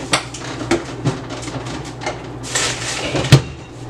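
A refrigerator drawer is slid and handled during cleaning, giving a string of light plastic knocks, clicks and scrapes at close range with no talk.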